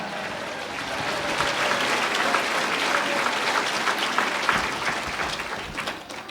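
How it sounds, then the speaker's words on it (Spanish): A church congregation in Sucre, Bolivia applauds together in worship, a full, sustained roar of clapping hands that stays loud and even for several seconds. "Fuerte aplauso, iglesia"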